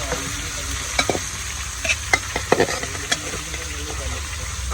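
Fish fries in a pan over a village cooking fire, sizzling and crackling with sharp spatula knocks and clatters, an engine-like hum running steadily underneath.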